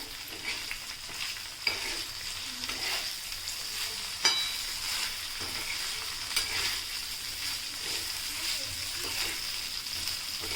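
Cluster beans (gavar) fry steadily in oil on a flat tawa, giving a continuous close sizzle with a few sharp stirring clicks and scrapes scattered through it.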